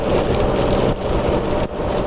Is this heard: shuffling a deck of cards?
no